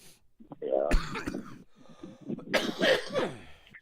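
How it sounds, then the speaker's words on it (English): Coughs from someone recovering from the flu: two short harsh bursts around a second and again near three seconds, close and fairly loud, with faint voice sounds between. "I'm just getting over the flu, so I still have some coughs"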